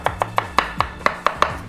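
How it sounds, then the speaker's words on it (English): Potatoes are diced with a knife in a home kitchen: about eight crisp, evenly spaced chops in a quick, steady rhythm, close and clear with no talking. "I don't know how much more time I can spend cutting up the potatoes."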